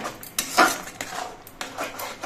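A spoon scrapes and clinks against a pan as spices are stirred into pineapple chutney, a few quick metallic scrapes and knocks at close range with no one talking.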